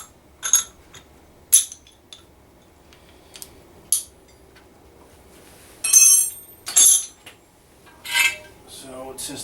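Metal 3/8 inch bolts for shop press legs clink sharply in a series of separate bright chinks and short rattling clusters, close by, with quiet gaps between them.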